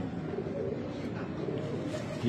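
High flyer pigeons coo softly and steadily at a home loft, a low continuous murmur of several birds close by with a faint voice underneath.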